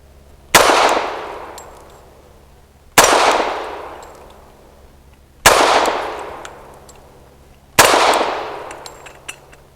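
Four loud, sharp rifle shots from a Century Arms Centurion 11, evenly spaced about two and a half seconds apart, each with a long ringing echo that decays before the next.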